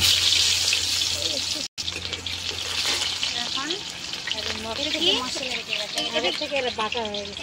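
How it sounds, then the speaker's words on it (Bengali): Sliced onion hitting hot oil for a mutton curry, giving a loud, continuous sizzle and crackle with stirring sounds, while people talk over it throughout. "এই যে তেল গরম হয়ে গেছে, পেঁয়াজটা দিয়ে দিই"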